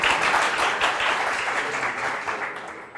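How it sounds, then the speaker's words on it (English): An audience at a startup demo day gives dense, sustained applause that holds steady before easing slightly toward the end. "A big round of applause"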